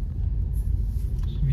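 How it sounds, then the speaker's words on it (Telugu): A car passes on a road with moderate traffic, a low steady rumble filling the short moment close by, with no other sounds standing out. "రోడ్లో ట్రాఫిక్ చాలా పెరిగింది కదా"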